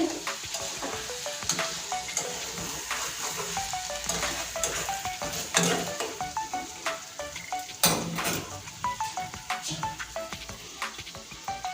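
Chicken masala sizzles loudly in oil in a pan, Bengali style, while a spatula scrapes and stirs in a steady rhythm of sharp metallic strokes against the pan, close and continuous.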